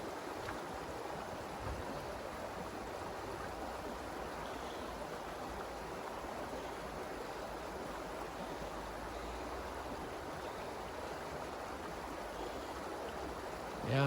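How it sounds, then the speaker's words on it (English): A creek flowing among trees in a snowy outdoor setting, a steady, even wash of running water that continues unbroken throughout, with no voices. "there's a creek down here."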